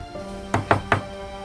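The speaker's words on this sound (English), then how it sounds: "Finally, a knock on the door." Knocking on a door as a sound effect: three sharp, hollow knocks in quick, even succession, close and loud over a quiet, humming background.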